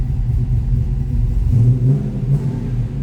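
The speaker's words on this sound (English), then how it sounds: "that was a cold start" A 1957 Chevrolet Bel Air restomod with an LS3 V8 running just after a cold start, giving a loud, steady low rumble close by that swells slightly partway through.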